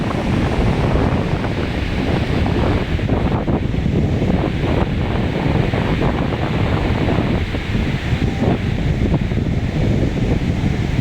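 Strong wind buffets the microphone on a wide Boracay beach at low tide, with a constant loud roar and gusty rumble blending with surf, steady for the whole stretch and no voices.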